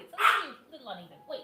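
A groomed dog gives a short, close bark amid a woman's speech, with softer whimper-like sounds trailing after during a grooming session.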